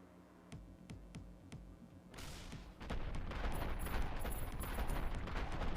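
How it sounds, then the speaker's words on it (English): Video game combat: sharp rhythmic gunshots at first, then a rising barrage of rocket blasts and dense gunfire hitting the player, growing louder and more chaotic. "those rockets really got me"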